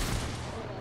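Dense burst of Fortnite gunfire during a Chapter 3 Season 4 match, loud and continuous across a short moment, with a voice talking over it.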